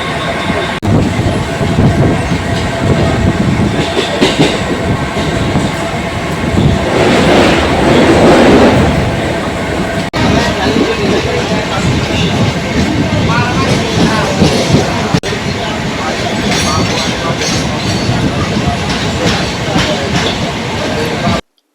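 A Mumbai local train runs at speed, first class coach, with a loud continuous rumble, rattling wheels and rhythmic clickety-clack, and occasional squeals over about twenty seconds.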